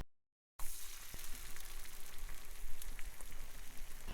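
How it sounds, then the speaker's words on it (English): Cumin seeds and finely chopped onion frying in oil in a large kadai: after a brief silence, a dense crackling sizzle starts abruptly and stays steady and fairly soft, with no one speaking. "To this add cumin seed, let it splutter, and now 1 finely chopped onion."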